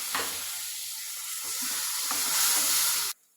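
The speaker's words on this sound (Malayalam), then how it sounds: "ഇതിലേക്ക് ജാറ് കഴുകിയ വെള്ളവും കൂടെ ഒഴിക്കും." Water rinsed from a grinding jar is poured into ginger-chili paste frying in oil, setting off a steady loud sizzle and hiss that swells midway, with light stirring clinks, then cuts off abruptly near the end.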